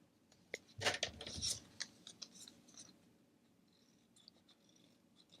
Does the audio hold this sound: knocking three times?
no